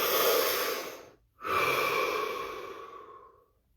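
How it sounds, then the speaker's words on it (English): A deep breath drawn in and let out slowly, close and clear, with a short pause between the inhale and the long fading exhale, then silence. "Deep breath."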